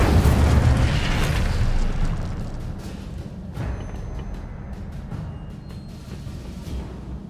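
Incendio fire spell cast in the Hogwarts Legacy video game: a loud whooshing burst of flame that fades into a lower rumbling crackle over several seconds.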